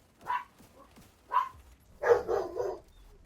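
Several dogs barking in short, separate bursts, a couple of single barks followed by a louder cluster of overlapping barks, heard at moderate distance against quiet background.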